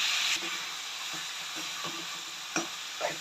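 Gongura leaves fry in oil with a soft, steady hiss, broken by a few light stirring scrapes and taps.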